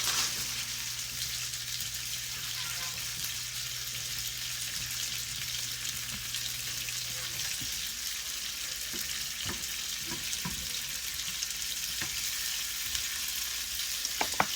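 Smash burgers fry in a pan with onions and sauce, giving a steady close-up sizzle with a few sharper pops and crackles near the end.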